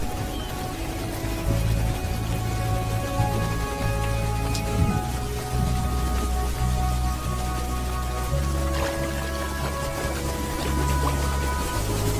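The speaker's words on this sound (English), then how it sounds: "the rains rejuvenate the scorched landscape." Steady rain patters continuously over a low, sustained musical drone, even and unbroken for the whole stretch.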